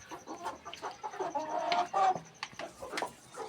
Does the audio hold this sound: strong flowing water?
no